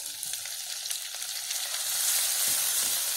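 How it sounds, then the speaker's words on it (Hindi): Ginger, green chili and garlic paste with finely chopped onion sauté in hot oil, a steady close sizzle and crackle for a few seconds with no talking. "ये मैंने प्याज और अदरक मिर्ची लहसुन को अच्छी तरह सोते कर लिया है 1/2 मिनट के लिए।"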